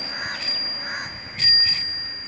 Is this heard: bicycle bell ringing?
yes